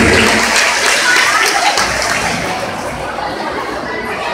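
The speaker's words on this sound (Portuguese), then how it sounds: "E eu peço uma salva de palmas" A crowd applauds flag bearers carrying the São Roberto and Maranhão flags at an Olympics delegation parade, dense clapping mixed with murmured chatter that gradually thins and fades.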